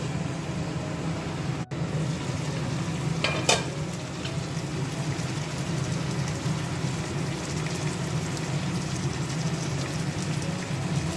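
Chicken for biryani sautés in a pan with a steady, close, dense sizzle and crackle, like light rain, and a brief clatter partway through.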